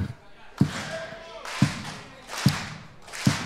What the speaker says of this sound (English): Can you guys clap?